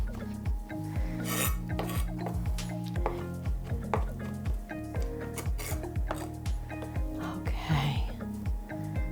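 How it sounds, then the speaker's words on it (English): A knife rough-chops fresh herb leaves on a board in quick, rhythmic, close thuds, a steady run of cuts with brief pauses and no talk. "So I'm going to try to take the stems off and just give a rough chop to the beautiful leaves."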